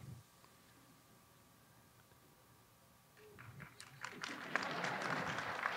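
Applause starts faintly after a quiet stretch and swells into steady clapping from an audience by the end.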